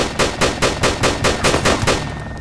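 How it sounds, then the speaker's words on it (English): Automatic gunfire in DayZ (Overpoch mod): a steady rapid string of about ten loud, evenly spaced shots, close and continuous, with no voices over it. "I'm gonna shoot him."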